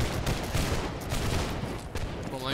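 A volley of muskets firing in Holdfast, a dense crackling burst of many shots close together, loud and close, followed by scattered reports and a short voice near the end.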